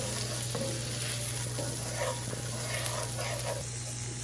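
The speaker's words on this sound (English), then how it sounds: "So my butter is melted and I'm adding my onions. I'm going to saute them just for a minute" Onions sauté in melted butter in a pan, a steady close sizzle and crackle that holds evenly throughout with no pauses.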